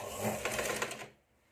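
A sewing machine runs in a quick, close burst while stitching a double-folded fabric strip for a katori blouse, rattling steadily for about a second before stopping abruptly.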